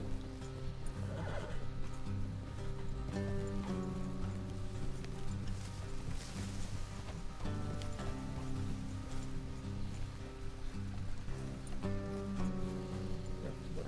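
Horses neigh and whinny over a steady clip-clop of hooves in the video game Red Dead Redemption 2, with a continuous musical bed underneath throughout.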